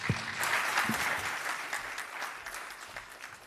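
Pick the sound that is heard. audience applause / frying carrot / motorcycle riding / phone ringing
audience applause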